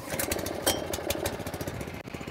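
An Allett Buffalo cylinder lawn mower engine runs loud and close with a steady chugging rumble and a brief dip near the end.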